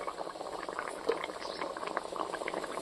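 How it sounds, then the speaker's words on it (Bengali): Red fish-head curry broth with hilsa head bubbling at a steady rolling boil, a dense continuous simmering burble with small pops scattered throughout, close and fairly quiet, no voices. "এখন ঝোলটা ফুটে গেছে"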